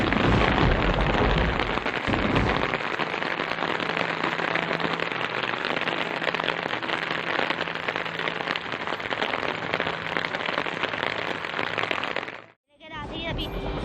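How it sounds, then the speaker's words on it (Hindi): Heavy rain in Abbottabad, Pakistan, pours steadily onto a hard roof in a dense, loud hiss that continues unbroken, then cuts out briefly near the end. "ये देखें शदीद किस्म की बारिश हो रही है।"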